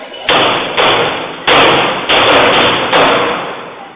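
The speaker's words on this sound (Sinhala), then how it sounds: "වෙඩි ප්‍රහාර එල්ලවන ශබ්දයද CCTV කැමරාවේ පටිගතව තිබුණා." Gunshots from a shooting attack, captured by a CCTV camera: about four or five loud, harsh bursts in an irregular sequence, each decaying quickly, with a compressed, low-fidelity quality and no speech.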